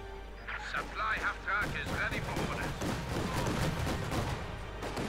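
Rapid gunfire crackles in the Company of Heroes 2 real-time strategy game, dense bursts of small-arms shots layered over rumbling battle noise, with someone talking over it.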